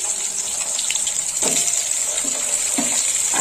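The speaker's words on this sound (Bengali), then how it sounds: "এই তেলের মধ্যে আমি আলুগুলো ভেজে নেব" Diced potatoes fry in hot oil left from frying a catla fish head, giving a steady broad hiss with a few soft stirring knocks, close and continuous with no talk.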